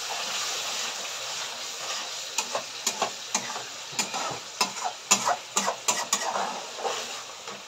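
Ground spices, including coriander powder, sizzle in a pan with a little water for a fish curry while a utensil stirs and scrapes in quick, repeated strokes over a steady frying hiss.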